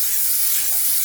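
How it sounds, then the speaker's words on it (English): Olive oil sprayed from a can into a Ninja cooker pan: one steady, close hiss lasting about a second. "I spray with olive oil"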